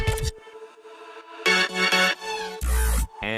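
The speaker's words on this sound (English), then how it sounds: "And then I have these drop effects." Drop effects from a remix: sustained synth swells and bursts that cut in and out, ending in a rising noisy whoosh with heavy low end, loud and alone.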